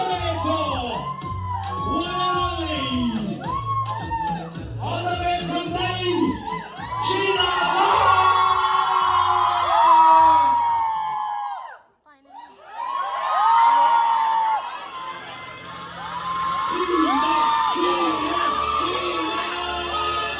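A crowd cheers, whoops and shouts to welcome arrivals at a seminar entrance in Guwahati, loud and sustained, dropping briefly before swelling again, with music-like tones and voices mixed in.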